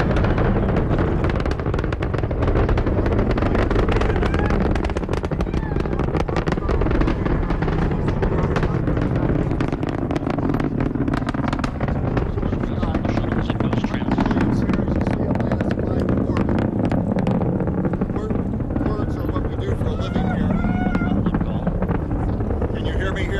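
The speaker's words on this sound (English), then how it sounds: "Atlantis, what a beautiful launch as she climbs through the clouds on her 8-minute ride to orbit" Space Shuttle Atlantis climbing toward orbit after launch, a steady, loud, broadband roar with a deep rumble that holds throughout, with voices faintly mixed in underneath.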